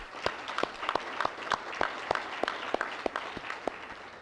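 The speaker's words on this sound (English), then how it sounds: "So let's give him a round of applause" Convention audience of disabled veterans applauding, with steady, evenly spaced claps rising from a hall crowd at moderate volume.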